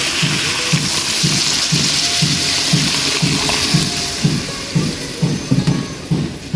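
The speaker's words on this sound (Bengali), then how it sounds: "পানি দিয়ে দেব" Water pours steadily into a cooking pot in a village kitchen, where bananas with fish, salt and turmeric are being cooked. The rushing, splashing flow continues close and fairly loud, with faint rhythmic knocking beneath it.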